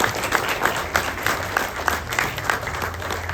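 Guests at a Chinese-Indonesian sangjit engagement ceremony applaud the couple, lively continuous clapping with a few sharper claps standing out, heard alone without talk.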